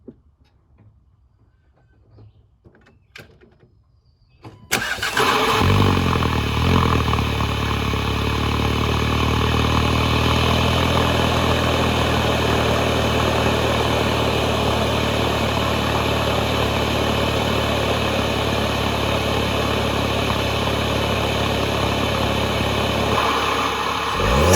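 A VW Golf GTI MK7 engine fitted with an ARM Motorsports intake starts about five seconds in, then runs loud and steady close by for the rest of the clip, with faint handling noises before ignition.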